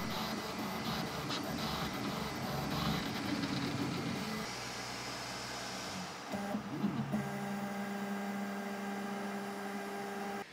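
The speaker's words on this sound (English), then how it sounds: "we're going to be measuring all of the other sounds, like the motors, the bearings and the bushings," A Bambu X1C 3D printer runs nearby with whirring stepper motors, bearings and bushings, shifting mechanical tones, steady and fairly quiet, with pitch changes as it moves.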